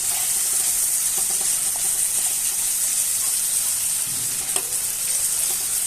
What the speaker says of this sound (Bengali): মুরগির মাংসটা ভালোভাবে ভাজা ভাজা হয়ে গেলে আমি সিদ্ধ করা পাতাকপিগুলো দিয়ে দিব।